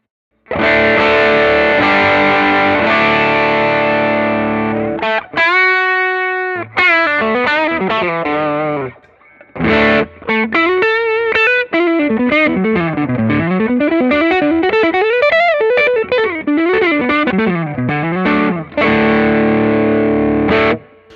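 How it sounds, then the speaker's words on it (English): Electric guitar driven through a Klon-style overdrive pedal into an already overdriven amp, strummed chords and then a run of single-note lines, loud, close and sustained with no talk. "So let's hear the Aqueria, so the Klon style."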